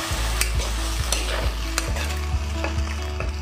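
Cornflour mixture stirred into a bubbling gravy in a pan for dry manchurian, with a loud close sizzle and regular scraping strokes of the spoon throughout, no voices.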